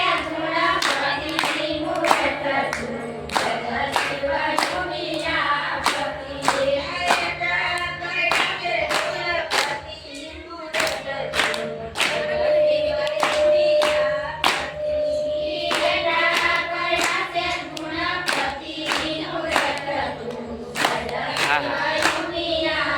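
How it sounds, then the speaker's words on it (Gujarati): People clap in a steady rhythmic beat at a home kirtan, the many sharp claps sounding together over sustained singing and instruments, with a short lull near the middle. "તાળીઓ પાડી"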